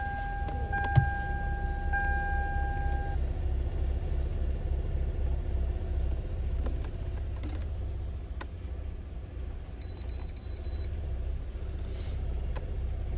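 A Toyota Camry engine starts and settles into a steady low idle, a close continuous rumble with a few faint clicks and beeps over it.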